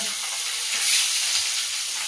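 Onions frying in a wok (kadai) give a steady, close, bright sizzle that swells slightly midway, with no voices.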